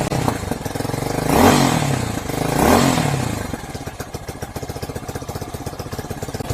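Hawk-X 250 motorcycle engine running on half choke, two swelling rev-ups in the first seconds, then settling into a rapid, uneven putter at idle, close and loud with no talk.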